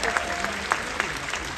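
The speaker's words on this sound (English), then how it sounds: "give her a big round of applause" Applause from a cruise ship audience at a Carnival Q&A event, a steady wash of clapping with a few sharper claps standing out, fairly distant and moderate in level.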